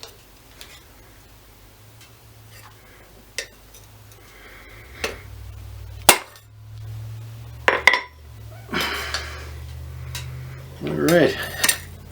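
A maker's touch mark is stamped into a forged knife: a few sharp, ringing metallic strikes and light clicks, spaced apart against a quiet workshop background, with a brief spoken word.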